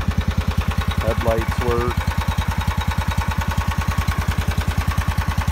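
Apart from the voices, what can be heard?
Kubota T1560 lawn tractor engine running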